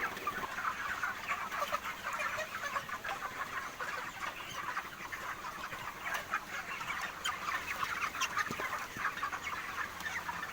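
Broiler chickens cluck steadily around a feed of fermented corn, a dense, continuous chorus of close, busy fowl sounds with no talking.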